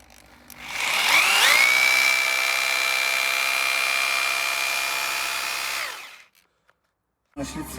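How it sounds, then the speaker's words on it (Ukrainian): A loud rotary hammer revs up and grinds steadily for about five seconds, driving a galvanized grounding rod into the ground, before winding down to silence, followed by a brief burst of noise. "Беремо перфоратор, вже я попередньо одів і погнали"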